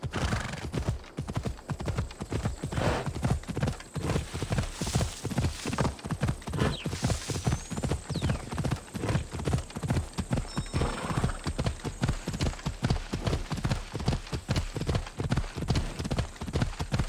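A horse gallops across open land in Assassin's Creed Odyssey, its hooves pounding a steady fast rhythm throughout, with a brief whinny and faint game ambience underneath.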